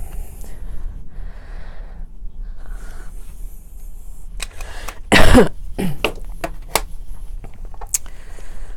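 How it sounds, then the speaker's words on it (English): One loud, sharp cough breaks a quiet room, followed by a few softer breaths and small clicks. "Excuse me for coughing."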